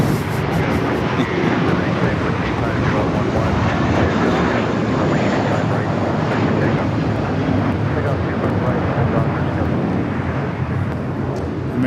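A 13-year-old American Airlines Airbus jet bound for Dallas Fort Worth roars steadily and loudly at LAX, a broad continuous rumble with wind buffeting across the whole stretch.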